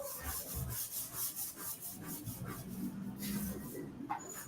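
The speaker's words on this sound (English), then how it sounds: "this is 400 grit sandpaper" A tank is hand-sanded with 400 grit sandpaper, giving close, rhythmic back-and-forth rubbing strokes of fairly even loudness.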